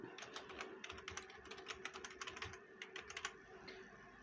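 Rapid clicking of a computer keyboard as a magazine name is typed in, a steady run of close, light keystrokes with a brief pause near the end.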